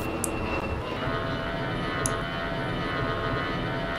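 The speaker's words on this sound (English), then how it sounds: "which gives us the impression that the airplane is tense here" A fixed-wing airplane drones steadily overhead, a continuous, fairly loud engine roar with a slightly rough, pulsing texture and no voices over it.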